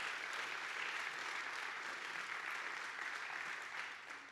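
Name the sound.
audience applause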